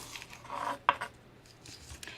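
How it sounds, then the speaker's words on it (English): A sharp knife cuts the tip off an onion on a cutting board, heard as a single crisp tap of the blade with light rubbing and handling sounds around it, close and quiet with no talk. "We're going to start with just chopping the tip off"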